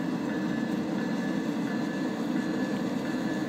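A train running in a train simulator video game gives a loud, steady low rumble with a continuous rolling hiss that holds without a break from start to finish.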